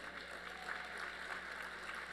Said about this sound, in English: let's give these young people a big round of applause